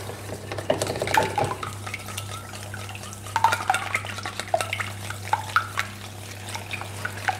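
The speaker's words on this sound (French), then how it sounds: "On va déjà mélanger les œufs avec le miel." Eggs and honey get whisked together in a bowl for apple muffins, making quick irregular clinks and scrapes of a utensil against the bowl along with a soft wet swishing.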